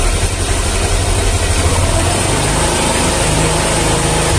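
A Honda Vario 125/150 scooter engine with a battery-charging fault runs loud and close with a steady, dense drone, holding an even throttle without clear rises or falls.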